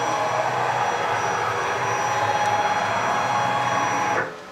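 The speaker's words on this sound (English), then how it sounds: "Okay, so now I can lower the table down until I get some measurement" A CNC machine table is lowered by its motor, a steady loud mechanical whir that holds evenly for about four seconds and then winds down abruptly.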